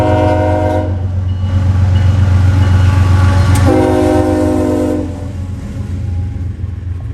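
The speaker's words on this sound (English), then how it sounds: "The train on the left is L333, who had just picked up a cut of cars north of here in MD siding." Freight train L333, carrying loaded hazmat cars, rumbles close by on a local line toward Columbus, its horn sounding in long loud blasts over the heavy engine drone before the rumble eases.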